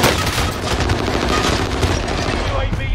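Rapid, continuous automatic M1916 gunfire in a shooter video game, a loud, dense stream of shots lasting the full three seconds.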